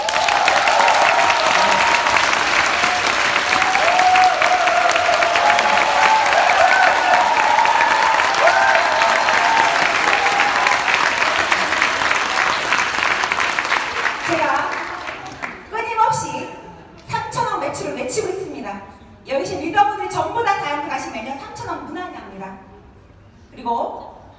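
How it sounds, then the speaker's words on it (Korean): Sustained applause from a seminar audience in a hotel convention hall fills the first fifteen seconds, dense and even, then fades as someone speaks into a microphone. "박수 주세요"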